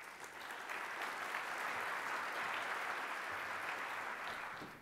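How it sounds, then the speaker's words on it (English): Steady, full audience applause from a large crowd at a keynote session of an entrepreneurship conference, sustained evenly for about five seconds with no talking over it. "Let's give her a round of applause."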